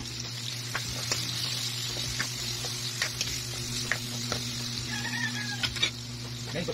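Garlic sizzles steadily in a pan while pancit is being cooked, a constant quiet crackle with occasional scraping stirs and light clinks against the pan.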